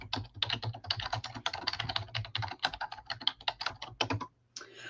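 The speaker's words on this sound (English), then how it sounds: "I need to type that again." Fast, steady typing on a computer keyboard, dense clicking keystrokes close to the microphone for several seconds before a brief pause and a few more taps.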